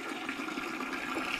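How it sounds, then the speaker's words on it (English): Water pours steadily into a dog's bowl during outdoor chores at a hunting-dog kennel, a continuous close rushing splash with no voices. "There's water for Charlie Brown."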